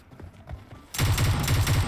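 Gunfire in PUBG Mobile: a quiet moment with a few soft knocks, then a sudden loud, sustained burst of rapid shots that keeps going to the end.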